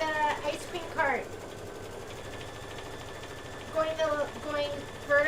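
A home embroidery machine stitching a design, its fast mechanical whir running underneath a person talking at the start and again near the end.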